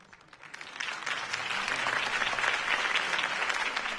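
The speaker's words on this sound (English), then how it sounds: "If only Mr. Wayne, my campaign's largest backer, could have heard that applause" A crowd applauds a campaign speech by Harvey Dent, dense clapping swelling quickly from a quiet start and holding steady and full for several seconds.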